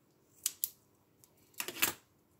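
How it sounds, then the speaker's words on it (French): Paper being cut in two, a few quick, quiet, close snips in two short groups separated by a pause. "Pareil avec celui-ci, je vais le couper en deux."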